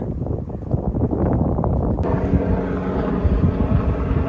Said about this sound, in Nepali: हेलिकप्टर गइरहेछ।